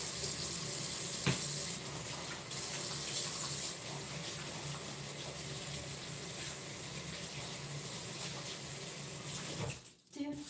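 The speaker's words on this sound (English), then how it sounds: "Let me just wash my hands again a little." A kitchen tap runs steadily for about ten seconds while hands are washed during a home baking session, a continuous close hiss and splash that cuts off near the end.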